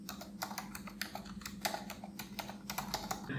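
Rapid typing on a computer keyboard, a close, quiet run of irregular key clicks with short pauses, no voices over it.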